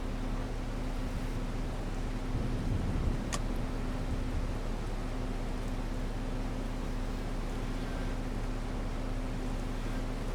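A farm tractor engine runs steadily at a low, even drone during a corn silage harvest in Alma, Missouri, with a heavy constant hum and one brief clank partway through, and no voices.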